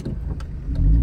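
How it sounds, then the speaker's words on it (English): Honda Civic FN2 Type R fitted with a Hybrid Racing cold air intake on the stock ECU, idling a little roughly: a close, low, uneven engine rumble that swells slightly toward the end. "Car's idling a bit rough"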